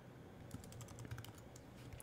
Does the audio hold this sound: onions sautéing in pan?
no